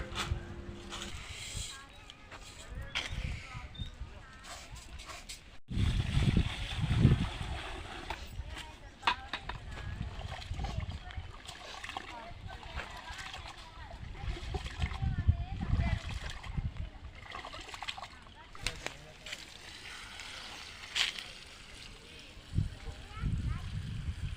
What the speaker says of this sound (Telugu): రెండు కిలోల బియ్యం కడుక్కుంటానా